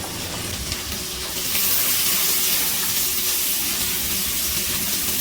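Chopped capsicum hits a hot pan of lightly fried ginger, garlic, green chilli and onion and breaks into a loud, steady, close sizzling hiss that swells after the first second and holds.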